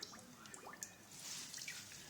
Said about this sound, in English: squeeze all that rinsing water out